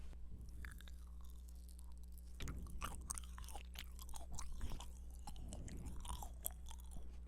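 Soft strawberry-flavoured jelly candy with a fluffy, marshmallow-like inside, bought at a convenience store, chewed close to the mic in a steady run of soft, moist bites and squishes with no talking.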